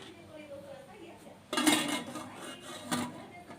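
A metal steamer pot holding water and oil clanks as it is handled and its lid is set on, two sharp metallic knocks over a quiet kitchen background.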